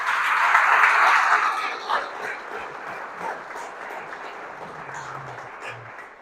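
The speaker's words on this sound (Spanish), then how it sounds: "Denle ese aplauso al Señor." A church congregation claps for the Lord at a Spanish-language worship service, a loud burst of applause at first that gradually thins and fades, with a few scattered claps and faint voices lingering toward the end.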